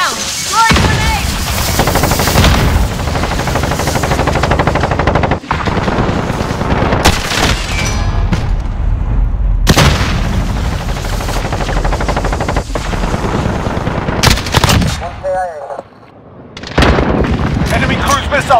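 Modern Warfare combat with a FAMAS rifle: loud, close bursts of automatic gunfire roll on almost continuously, with heavy booms from a grenade blast and brief lulls, while in-game voices call out over the shooting.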